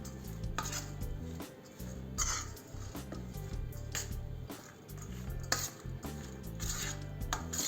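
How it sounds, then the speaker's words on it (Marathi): Sabudana and papaya batter with salt and chili being mixed in a bowl, giving soft, steady scraping and stirring clatter close up, with faint background music and no talk. "या मिश्रणला छान मिक्स करून घेऊ।"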